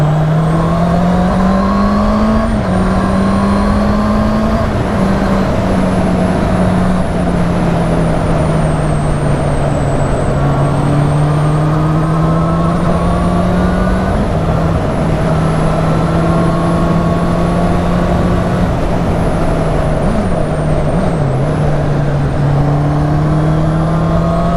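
A 2019 Honda CB650R motorcycle is ridden along bumpy country lanes, its engine droning loud and steady from close by while the pitch rises and falls through gear changes over continuous wind rush.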